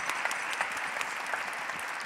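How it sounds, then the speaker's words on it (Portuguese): An audience at a literary talk show applauds a performer at the end of the event, giving a steady, even wash of many hands clapping at moderate volume, with no voices on top. "Palmas para ela."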